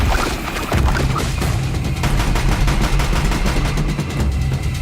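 Loud, dense gunfire and crashing impacts from the video game Horizon Zero Dawn, with rapid repeated shots and booms filling the whole stretch without letup.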